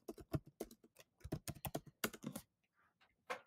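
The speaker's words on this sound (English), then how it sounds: "I'm going to go ahead and type video in here." Rapid clacking keystrokes on a computer keyboard come in quick bursts close up, then slow to a few isolated taps.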